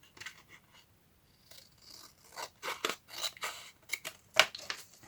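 Scissors snip through a strip of decorative challenge paper in a quiet room, a string of short close crisp cuts and rustles that grow louder and quicker toward the end.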